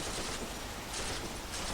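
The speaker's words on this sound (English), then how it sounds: "An endless crescendo of gunfire followed me." Sustained machine gun fire in an action fight scene, a dense unbroken crackle of rapid shots holding steady and loud throughout, with no voices.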